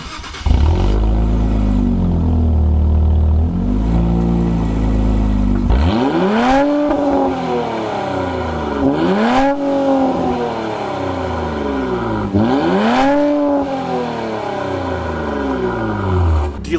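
An Infiniti car accelerates hard from 0 to 60 mph: a loud engine idle-rumble, then three rising revving pulls through the gears, each ending in a shift, heard from inside with no speech.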